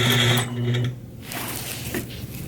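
A sewing machine stitches steadily during free motion ruler quilting, the fabric guided under the needle by hand. The mechanical hum runs loud for about a second, then fades into softer background noise.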